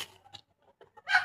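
A chicken gives a few short, quiet clucks, then one louder, sharper cluck at the end, with silence between.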